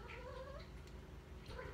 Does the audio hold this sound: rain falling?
no